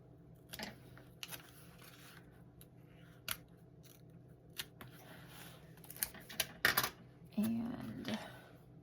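Scissors snip through paper in a series of short, crisp cuts, close and fairly quiet, with faint rustling between the snips.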